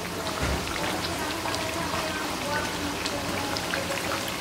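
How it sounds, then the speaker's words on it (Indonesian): Cireng tapioca snacks fry in hot oil, a dense, continuous crackling sizzle that stays loud and close throughout. "Senangnya goreng cireng."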